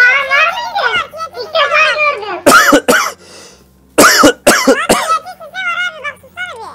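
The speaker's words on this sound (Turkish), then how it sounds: "kuru öksürük daha geçti" Dry coughing: two clusters of sharp, harsh coughs break up stretches of excited talking, loud and close.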